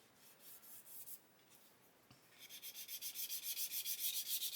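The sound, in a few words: gently sanding a turned aluminium model part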